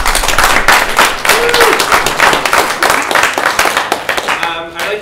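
Audience applause at a live debate event thanking the moderator: dense, sustained clapping from a crowd, loud and steady for about four seconds before thinning out, with some voices mixed in.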